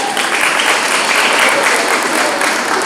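Loud, dense applause from a school audience at the dedication of an open auditorium, a continuous roar of many hands clapping at once, steady from start to finish.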